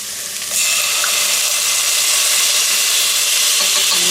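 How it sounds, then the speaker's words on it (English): Garlic hits browning onions in a hot pan, bursting into a loud, close, continuous hissing sizzle that jumps up after a quieter first half-second and holds steady, no talk. "my onions are just starting to brown a little bit, so we just want to add our garlic now"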